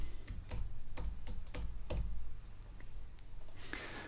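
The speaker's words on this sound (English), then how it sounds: "I'm going to use the keyboard shortcut Control and J" A computer keyboard being typed on while working in Photoshop, with a run of quick, close clicking keystrokes in an irregular rhythm and no talk.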